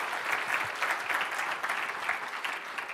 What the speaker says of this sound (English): let's have a big round of applause for the Oracle ACE directors.